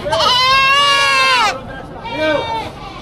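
Goats bleat loudly at a busy livestock auction in Padre Garcia, Batangas: one long, strained bleat close by, then a shorter second call, with crowd chatter underneath.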